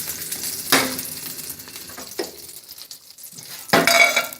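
Butter burns and sizzles in a cooking pan, with a soft crackling hiss throughout. A few sharper scrapes and clinks of a utensil against the pan stand out.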